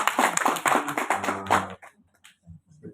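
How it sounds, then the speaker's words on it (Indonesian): Brief clapping by a small audience at a community discussion held in a crowded village neighbourhood, a short burst of hands that quickly fades, with a bit of talk at the end. "Tepuk tangan dong untuk Bapak Ibu ini."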